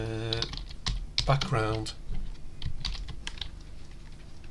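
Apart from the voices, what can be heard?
typing code on a computer keyboard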